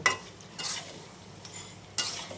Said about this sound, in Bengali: এখন কিন্তু আবারও আমি একটু নেড়ে চেড়ে মশলার সাথে মাংসটাকে মিশিয়ে দিয়ে